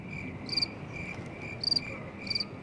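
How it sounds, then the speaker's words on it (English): Crickets chirp close by with a steady high trill, broken by three bright pulsed bursts of chirps spaced about a second apart. "USC dumped hundreds of crickets into the UCLA library during"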